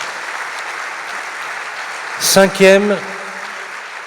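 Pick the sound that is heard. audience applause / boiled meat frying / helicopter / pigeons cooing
audience applause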